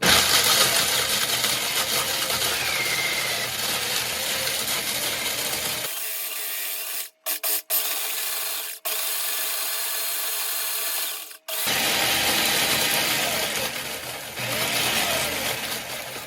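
Electric grinder pulsing smoked jalapeños into powder in a basement, a loud whirring buzz in several bursts with a sudden cut-out partway through, then running again.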